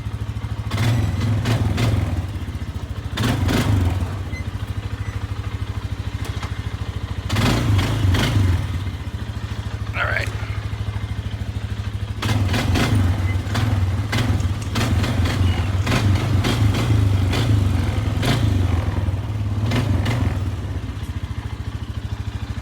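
A Polaris Sportsman 500 ATV engine runs steadily close by, a low idling rumble with intermittent clattering bursts and revs throughout.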